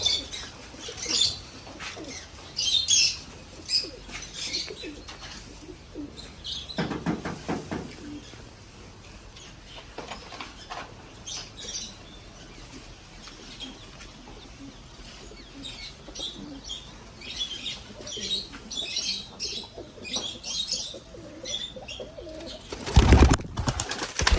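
Pigeons coo softly now and then over a long stretch, with bursts of flapping wings and a few chirps nearby.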